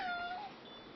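A pet cat gives one short, clear meow close by, a quick falling cry over a quiet background.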